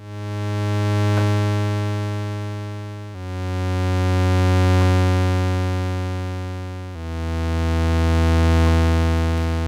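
Three long sustained notes from a Roland System 100 analog synthesizer set to a long release, each rising gently then fading slowly into the next rather than stopping abruptly.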